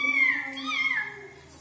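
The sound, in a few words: child imitating a cat meowing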